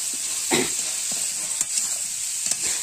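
Potatoes and pointed gourd sautéing in a pan with very little spice, a steady close sizzle of frying with a few soft stirring scrapes on top.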